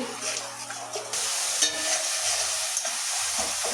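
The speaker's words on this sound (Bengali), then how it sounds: "এবার ভালো করে মশলাটা কষিয়ে নিচ্ছি" Masala spice paste stir-fried in a pan for a spicy pabda fish curry with eggplant, giving a steady sizzle with scraping stir strokes, close and moderately loud throughout.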